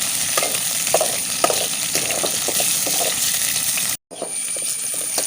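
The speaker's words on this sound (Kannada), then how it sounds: "ಇವಾಗ ನಾನು ಹಸಿಮೆಣಸನ್ನು ಮತ್ತು ಬೆಳ್ಳುಳ್ಳಿಯನ್ನು ಎಣ್ಣೆಯಲ್ಲಿ ಚೆನ್ನಾಗಿ ಬಾಡಿಸಿಕೊಂಡಿದ್ದೇನೆ" Green chilies and garlic frying in oil, a steady close hiss of sizzling with occasional stirring clicks and scrapes, briefly cut by a short dropout near the end.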